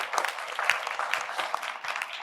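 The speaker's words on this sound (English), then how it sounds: "Can we give her a round of applause?" An audience at an education planning workshop claps in a brief burst of applause, a dense patter of many hands, moderately loud and steady, with no voices over it.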